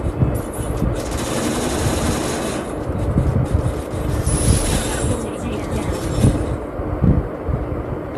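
A Thompson gun fires in a Free Fire ranked match, a loud continuous rattle of automatic bursts mixed with dense game noise throughout.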